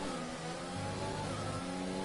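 F1 car engine accelerating hard in F1 2020 on the Canada circuit: a loud, continuous high-pitched engine whine with rising harmonic tones, close and alone.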